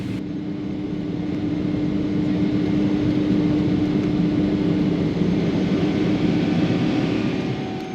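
Steady, broad cabin roar of an airliner's engines climbing out after takeoff from the Maldives, a continuous even drone with a faint hum, heard from inside the cabin without talk.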